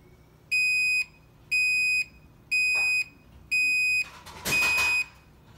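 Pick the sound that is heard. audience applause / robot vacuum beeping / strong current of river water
robot vacuum beeping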